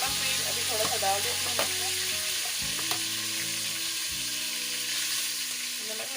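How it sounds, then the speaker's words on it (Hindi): Zeera rice ingredients frying in a pan while being stirred, a loud continuous sizzle with a brief spoon scrape, as someone speaks briefly over it. "अब इसको मैं थोड़ा सा हिलाऊंगी"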